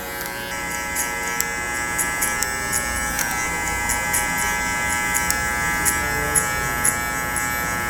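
Hair clippers fitted with a 1.5 guard run steadily while fading hair, a close, continuous electric buzz with small clicks and brushing strokes, no talking.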